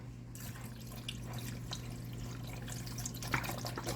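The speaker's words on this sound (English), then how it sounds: "Then we're going to go in with that broth." Continuous liquid pouring and splashing as broth goes into a pot of chicken fajita pasta. Faint and steady over a low hum, with no talking.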